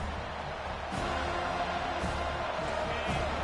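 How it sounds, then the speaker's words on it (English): A college football stadium crowd welcoming the visiting team at a Seminoles game roars in a dense, continuous wall of cheering that swells slightly in steady waves. "This crowd bringing an ear-splitting welcome to their visitors."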